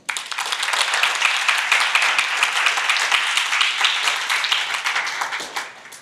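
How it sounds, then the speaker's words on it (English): Audience applause welcoming the CEO of a crypto company at a paddock event, a dense, steady wash of many hands clapping that swells in quickly, holds at full strength for several seconds and thins toward the end. "I have never realized that I will get so many applause"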